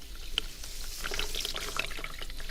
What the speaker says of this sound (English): going to rinse